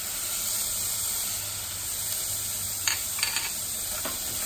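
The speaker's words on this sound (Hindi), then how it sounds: "अब इसमें चने की दाल में 1 मिनट चला ली, इसके बाद इसमें मैं पहले हल्दी डालूंगी।" Chana dal with turmeric is stirred in a hot pan, giving a steady sizzling hiss with a few soft scraping clicks of the spoon near the end, close and without talk.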